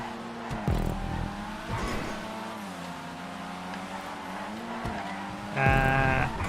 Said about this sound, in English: Club is such a great little car.